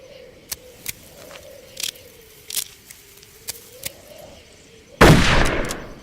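A rifle is handled and fired during training in the video game Darkest of Days, with a run of sharp mechanical clicks followed by one loud, close gunshot blast that rings out to the end.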